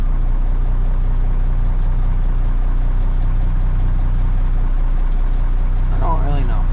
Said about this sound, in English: is there somebody riding in the tractor with Chip?